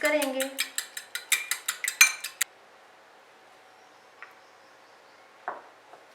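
Two eggs with a few tablespoons of oil beaten in a bowl: about a dozen quick, close metallic clinks of utensil against bowl in a steady rhythm for two seconds, then near silence with a couple of faint knocks and a brief spoken word.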